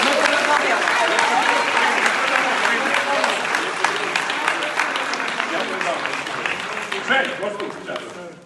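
Sustained, dense applause from a crowd at an awards event in Kyiv fills the whole stretch, steady and loud before easing slightly toward the end.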